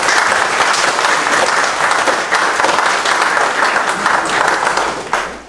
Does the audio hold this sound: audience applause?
yes